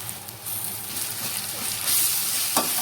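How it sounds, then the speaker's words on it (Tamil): Grated raw mango is stirred and sautéed in a pan, a close crackling sizzle with scraping strokes from the spoon that swells near the end before a sharp scrape. "சேர்த்து இப்போ மாங்காயை நல்லா கிண்டி விடணும்"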